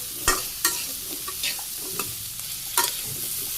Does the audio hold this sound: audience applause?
no